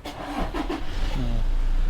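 A Toyota Fortuner 2.8 TRD 4WD diesel is push-button started, with a short cranking burst before the engine catches and settles into a low, steady idle nearby.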